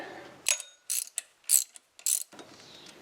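Four short metallic ratcheting and whirring bursts come from a Subaru alternator pulley spinning as the alternator is pried out of the engine, each burst close and crisp with near-silent gaps between them.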